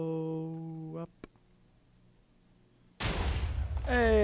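An explosion in Minecraft Feed the Beast bursts in abruptly after a quiet stretch, a loud broadband blast that keeps roaring and crackling to the end, with a voice speaking before it.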